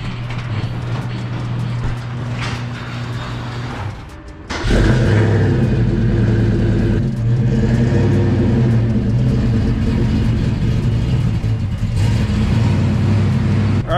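Fox body Ford Mustang cold starting: a steady, loud engine rumble with a low idle drone, a brief dip near four seconds, then a fuller, harsher run with bursts of revving.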